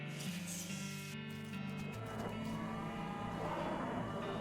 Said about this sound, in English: A portal to hell, you hear ominous mooing.